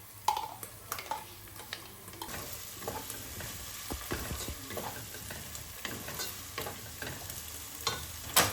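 Green chili paste with ginger and garlic frying in a pan while being stirred, a steady low sizzle with scraping spoon strokes throughout, no talking.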